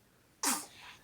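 One abrupt human sneeze, loud and close, bursting after quiet and trailing off into breath.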